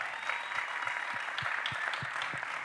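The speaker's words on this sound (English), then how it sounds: "If you all can please give these three a round of applause," An audience claps steadily for three guests at a hip hop culture talk, a dense even patter of hands in a room at moderate level.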